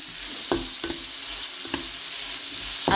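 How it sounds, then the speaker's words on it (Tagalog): Onions and garlic sizzling steadily in hot oil for lumpia filling, with a continuous fry hiss broken by several sharp stirring scrapes of the spatula, close and alone. "Onions and garlic with fried oil."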